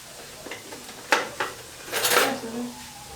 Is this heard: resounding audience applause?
no